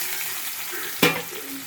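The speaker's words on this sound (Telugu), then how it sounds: "నూనె వేడెక్కాక ఉల్లిపాయలు పచ్చిమిరకాయలు వేసుకున్నాం ఫ్రెండ్స్" Onions and green chilies frying in hot oil in a kadai, a steady close sizzle broken by one sharp clack of a utensil midway, no speech.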